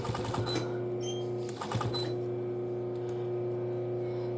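A sewing machine stitches through denim jean seams for a mug rug, its steady motor hum and rapid needle chatter running close and continuous, busier at first and then settling into an even whir.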